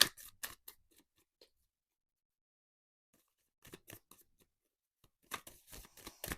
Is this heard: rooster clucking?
no